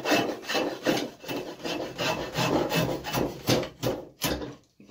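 A drawknife shaves wood while shaping an axe handle, giving repeated rough rasping strokes in a steady back-and-forth rhythm, close and fairly loud, with no talk.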